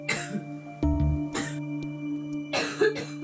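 Persistent night-time coughing: a few harsh coughs in separate bursts, close and fairly loud over a steady low hum, with no talking.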